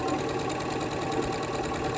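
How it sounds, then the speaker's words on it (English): A sewing machine stitches two layers of a capelet hood together in a rapid, steady mechanical patter, close and continuous, with no voices. "now I'm going to sew them."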